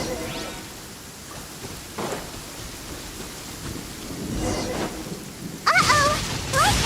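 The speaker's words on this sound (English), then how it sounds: "Uh-oh! Lightning storm!" A thunderstorm with lightning and rain in the Genshin Impact video game: steady rainfall hisses throughout as thunder rumbles and cracks build, ending in a sharp, louder burst near the close.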